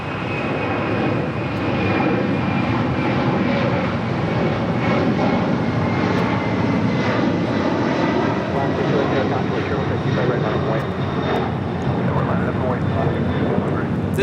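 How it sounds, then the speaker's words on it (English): A LATAM Airlines Boeing 767-300ER takes off from Los Angeles International Airport bound for Lima, Peru, its engines a loud, continuous roar that holds steady throughout. "2479 taking off to Lima, Peru on the 767-300 ER"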